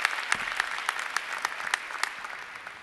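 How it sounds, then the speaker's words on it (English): Crowd applause at a college commencement ceremony, a broad wash of clapping with sharper individual claps standing out near the front, gradually easing toward the end. "Let's have another round of applause for all of you"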